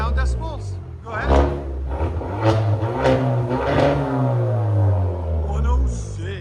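A straight-piped 2017 Kia Optima SXL 2.0 Turbo engine rumbles close up and revs in repeated loud pulses, with voices talking over it.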